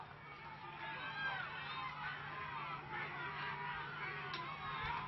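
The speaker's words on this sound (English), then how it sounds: "So plenty of noise from the crowd here." Distant crowd noise at a Northcote versus Te Atatu rugby league game: a steady, fairly faint roar and babble of spectators that swells and dips slightly without any clear break.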